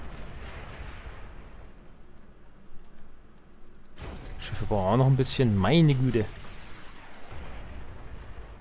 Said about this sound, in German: Ich höre ständig irgendwas explodieren